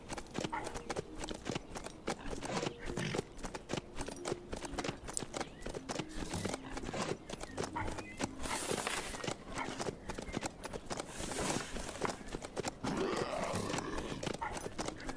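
Horse hooves clip-clopping steadily in the zombie survival game HumanitZ, a continuous rhythmic trot heard near and moderately loud, with a brief whinny and faint talk in the background.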